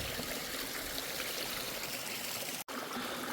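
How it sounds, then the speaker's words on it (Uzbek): Obishirin spring water splashes over stones as it runs downhill in the Kurama mountains, a steady close rushing gurgle that carries on evenly with a brief dropout near the end. "Mana endi mana bu yerda sharillab toshlarga urilib pastga qarab tushib ketyapti."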